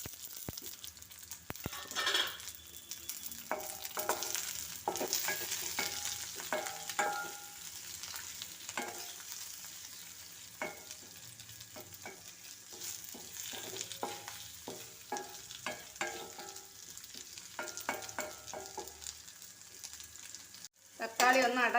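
Chopped tomatoes sizzle faintly in a pan, with frequent light clinks and scrapes of a spoon stirring throughout and a louder knock near the end.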